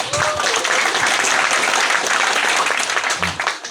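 A hall audience at an STM Manokwari event applauds a woman doctor of law as she stands, with dense, even clapping that holds steady and loud for nearly four seconds before easing slightly at the end.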